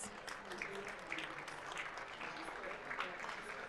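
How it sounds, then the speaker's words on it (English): Audience applause welcomes panelists at a discussion event on gender equality and green jobs, a soft, continuous patter of clapping heard at moderate distance, steady from start to finish. "Can we welcome them all with an applause, please?"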